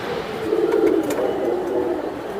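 A pigeon coos in a low, throaty rolling call, close and fairly soft, with a few faint higher chirps and rustles behind it and no talk.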